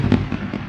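A brief fireworks sound effect pops three times in quick succession, the first burst loudest and the later two softer, close and short with no voices.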